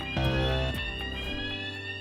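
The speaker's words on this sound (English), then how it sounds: "If the alarm rings, stop whatever you are doing and keep phone lines clear." A fire alarm rings loudly and continuously with a harsh, buzzing electronic tone, heard on its own without voices.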